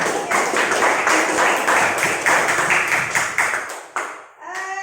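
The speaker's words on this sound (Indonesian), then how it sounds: "berikan tepuk tangan dulu untuk kelompok Balengku" Classroom audience claps for a presenting student group, a lively burst of many hands close by that thins out and stops near the end, where a voice begins.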